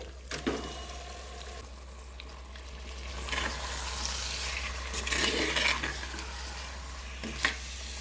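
Marinated chicken is stirred in a pot with jaggery paste for chicken biryani, giving soft, irregular scraping and sloshing strokes over a steady low kitchen hum, with no talk.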